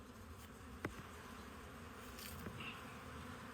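Honey bees buzz at a log hive, a faint, continuous drone with a couple of soft clicks and taps, no voices heard.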